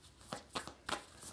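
A tarot deck shuffled close up, three or four soft papery riffles in a short burst, quiet and with no talking.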